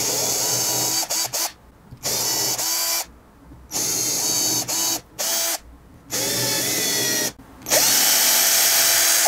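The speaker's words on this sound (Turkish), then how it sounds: "ince bir matkap ucuyla" A power drill with a thin bit whines in several short bursts separated by brief pauses, close and loud, boring pilot holes into wood.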